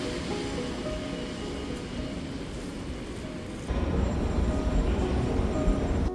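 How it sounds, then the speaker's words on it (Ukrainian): A tram in Munich rumbles and hums nearby, growing louder as it arrives, with a low rolling drone and faint metallic tones. "Перший трамвай приходить рівно за розкладом."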